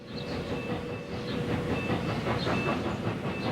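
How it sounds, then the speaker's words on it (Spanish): Trains rushing fast along railway tracks, a steady rumbling roar with rhythmic clacking and faint hiss, continuous and moderately loud with no voices. "Los trenes villistas y los trenes carrancistas se movían sobre las vías a gran velocidad."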